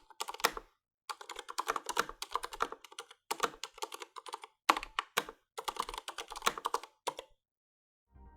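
Typing on a Durgod K320 TKL mechanical keyboard with Cherry MX Silent Red switches, bursts of soft, muted, low-pitched keystrokes in quick runs separated by short pauses, close and quiet with no talking.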